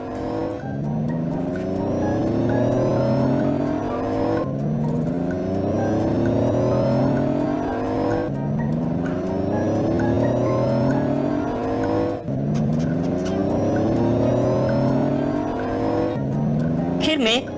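Cars race in a sound effect, engines droning and revving in repeated rising sweeps, loud and continuous, looping about every four seconds under a narrating voice.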